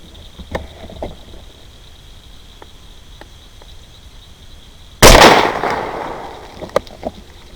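A single loud gunshot cracks out during a beaver hunt on open property, sudden and sharp after a quiet outdoor stretch, then decays slowly with a distant rolling echo.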